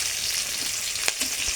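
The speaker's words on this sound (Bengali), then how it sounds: "কাঁচা লঙ্কাটা একটু ভাজা ভাজা করে নিয়েছি, এর মধ্যে দিয়ে দেবো পাঁচফোড়ন আর একটা তেজপাতা।" Green chilli, panch phoron and a bay leaf sizzle in hot oil with a loud, steady crackling hiss and a few sharper pops near the end, heard alone.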